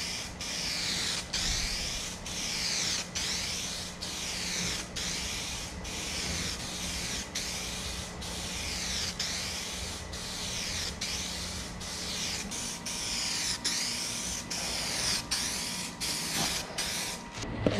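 Spray paint applied to a car as a wetter, slower third coat, a rhythmic series of close hissing bursts repeating about once per second across the whole stretch.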